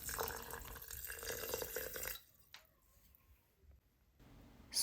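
Water poured into a bowl for homemade honey-spiced mustard, a short trickle and drips at moderate level for about two seconds, then near silence with faint clinks.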